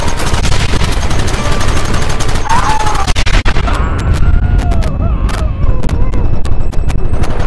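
Gunfire in Red Dead Redemption: loud, dense volleys of shots and booms that blur into continuous fusillade, then ease into scattered sharp cracks with shouting voices mixed in.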